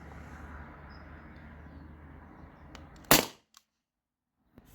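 A single sharp shot from a modified T4E HDP50 Gen 1 HPA pistol at 900 PSI firing a 1.1 gram round, a loud crack after steady background hum, followed by a brief quiet tail.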